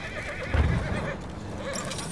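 A warhorse in the World War I shooter Battlefield 1 lets out a close, loud whinny with faint hoof clops and battle ambience around it.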